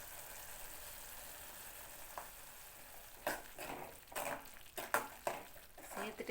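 Chana masala with Kashmiri chili powder being sautéed and stirred in a pan, with a low steady sizzle, then louder scraping bursts of stirring in the last few seconds.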